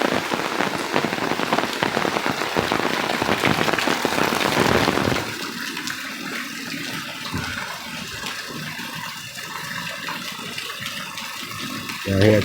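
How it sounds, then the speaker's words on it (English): Heavy rain falls outdoors on a June street in Chester, Pennsylvania, with a dense, loud hiss that drops to a softer patter of drops about halfway through. "I'll let some of this rain slow down a little bit before I take back on."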